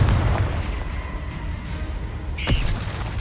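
Explosive combat spells such as Confringo and Bombarda go off in the video game Hogwarts Legacy, with loud, deep booming blasts rolling over each other and a sharp crack near the end.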